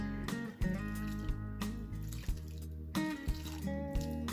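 Water from a watering can is poured over newly planted lemongrass, giving quiet intermittent splashes and drips with brief pauses between pours.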